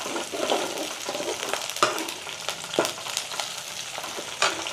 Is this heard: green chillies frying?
yes